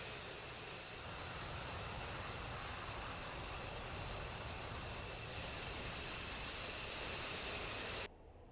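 An aircraft taxiing in the Roblox game SharkBite, a steady, broad engine roar and hiss that holds constant for about eight seconds before cutting off abruptly.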